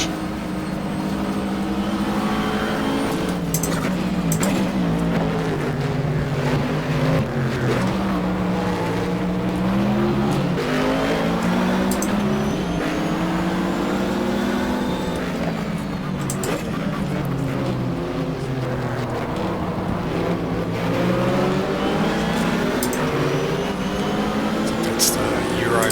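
Race car engines in the GTR2 racing game at Daytona in a 1995 24-hour event, a loud whining engine note rising and falling through gear changes, with other cars nearby and occasional talk over it.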